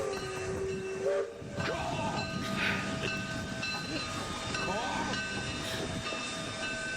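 A train sound effect plays from a soundboard: rolling rail rumble with a steam-style whistle and tonal squeals over a hissing bed, moderately loud and continuous for seven seconds.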